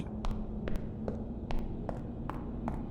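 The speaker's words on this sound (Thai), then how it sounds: "เหมือนมีใครวิ่งอยู่ข้างบนหลังคาเมื่อกี้ในท่อ" Rapid footsteps run across a roof overhead in a horror video game set in a station, a quick series of light, evenly spaced thuds over a low droning background, fairly faint and distant.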